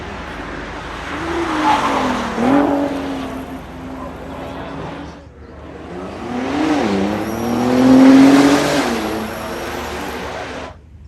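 A Nissan GT-R50 by Italdesign on a street in Singapore, passing twice with its engine note rising and falling in two loud swells, the second one nearer and stronger.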